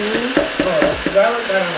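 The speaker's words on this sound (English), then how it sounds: "Stir that all, get that all incorporated in the bottom of the pan and all the pieces." Steak stir fry being stirred in a hot pan: a steady sizzle with repeated scraping strokes of a utensil along the pan bottom, close and fairly loud.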